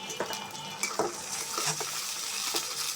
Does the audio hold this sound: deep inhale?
no